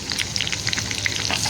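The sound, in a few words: Agri Koli masala frying in hot oil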